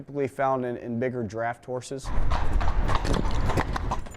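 A large cold-blooded horse used for funerals whinnies, then hooves clip-clop steadily and loudly on a hard surface, with a voice speaking over the sound.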